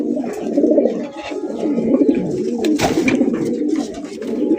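Big-sized Gola racer pigeons coo steadily and loudly up close, overlapping throaty calls rising and falling over about four and a half seconds, with a brief sharp noise partway through and no talking.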